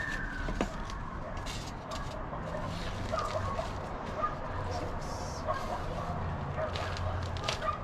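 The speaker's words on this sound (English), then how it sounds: "that dog down there is really unhappy" A dog somewhere below in an outdoor garden barks and yips in short repeated bursts, moderately distant, over steady background noise.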